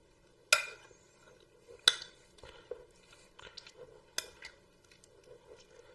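Hand mixing of a goat cheese and dried cranberry stuffing in a bowl, with a few sharp clinks against the dish and soft squishing and stirring sounds between them, close and fairly quiet.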